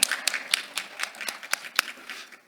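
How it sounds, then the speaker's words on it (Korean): A small forum audience gives a short round of applause to welcome a provincial vice-governor to the stage at the 2021 DMZ Forum special session, with a few scattered, distinct claps over about two and a half seconds. "박수로 맞아주시기 바랍니다"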